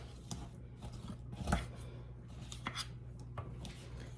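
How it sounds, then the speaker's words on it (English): Chow mein noodles for butterscotch crunchies are broken up in a bowl, giving sparse crisp cracks and scrapes with one louder crunch near the middle, close and fairly quiet. "don't be shy about going in there and chopping them up just a little bit."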